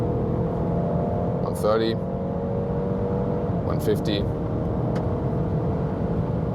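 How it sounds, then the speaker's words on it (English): A car accelerating hard from 100 km/h gives a steady engine roar with a rising whine, and a voice calls out numbers over it. "So are you guys ready to accelerate from 100 kilometers an hour?"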